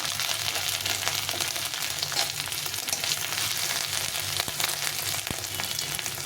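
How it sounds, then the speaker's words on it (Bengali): Ground cumin and chili powder fry in a pan with a continuous dense sizzle, close and even, marked by a few faint scrapes of stirring and no speech. "এটা দিয়ে ভালো করে মশলাটাকে একটু ভেজে নেব"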